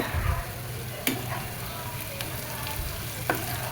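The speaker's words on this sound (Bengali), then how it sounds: "তো এখন রসুন ও পেঁয়াজ ভালোভাবে ভেজে নেব। তো নেড়ে চেড়ে দিচ্ছি ভালো করে।" Whole local garlic cloves and onion fry in a pan for a dried fish bhuna, a continuous close sizzle broken by a few sharp clicks and scrapes as the pieces are stirred, with no voices.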